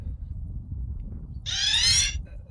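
A Weofly Vive 2 rugged smartwatch sounds its emergency SOS siren in a sudden high, wavering, shrill burst lasting about half a second over low background rumble.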